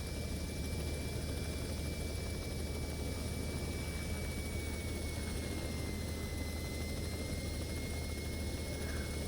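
A helicopter flown in a flight simulator game gives a steady, unbroken engine and rotor drone for nine seconds with a constant level and no talk.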